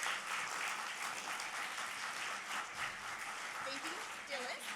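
Audience applause at a women's leadership event on gender equality and democracy, honoring an award recipient; a steady wash of clapping fills the room at moderate level, with brief voice-like tones near the end.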